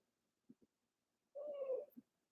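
A pet cat makes two soft short chirps, then a longer drawn-out meow and a final brief chirp, faint and close in an otherwise quiet room.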